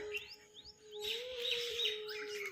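Sparrows chirping in quick, high repeated calls in the morning, fairly close, against a steady low hum, with the chatter growing busier toward the end.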